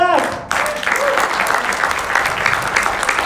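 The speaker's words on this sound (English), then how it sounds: "Maybe you can clap better than that." A church congregation claps during a sermon, a loud, dense burst of applause that kicks in sharply after a brief voice and carries on steadily to the end.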